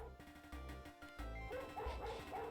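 Video game dog gives a few short barks and yips, quiet and close, with a brief pause between bursts and no talking over them.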